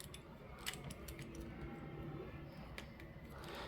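A face bolt being screwed into a counterfeit Beyblade top, giving faint, close ratcheting clicks and small mechanical ticks over quiet room noise.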